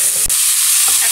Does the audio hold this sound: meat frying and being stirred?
yes